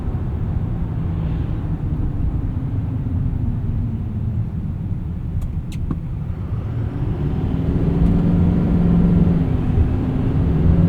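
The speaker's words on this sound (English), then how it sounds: "a turbo diesel V8 just sounds cool too" 2025 Chevrolet Silverado 2500 Trail Boss turbo diesel V8 driving, a steady low engine drone with road noise heard from inside the cab, rising slightly toward the end.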